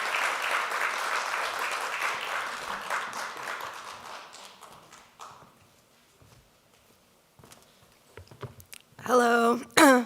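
An audience claps for a documentary filmmaker at a film festival finale in New York, loud sustained applause that tapers off over several seconds, leaving near quiet before a voice comes in near the end.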